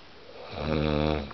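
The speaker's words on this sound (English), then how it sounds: "You're snoring, love." A man snores close by, with one long, loud rasping breath rising into a steady throaty drone that holds for most of the moment.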